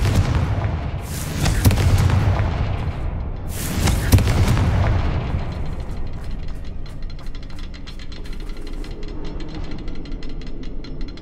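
Explosive Confringo spell blasts in the video game Hogwarts Legacy, two loud booming bursts a couple of seconds apart, each followed by a rumbling decay that fades into quieter crackling debris.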